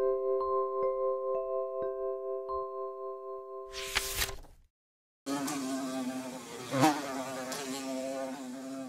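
A fly buzzes close by in a cartoon, a wavering drone that rises and falls, cut off by a sharp whoosh and a brief silence, then returning as a louder, busier buzz.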